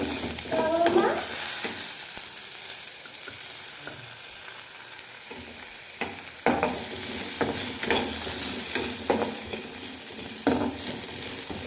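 Cauliflower and potato frying and being stirred in a pan until light brown, with a steady sizzle and repeated scraping stir strokes close by.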